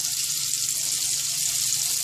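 Steady, loud sizzling of skirt steak frying in a hot pan, a continuous crackling hiss with no voices.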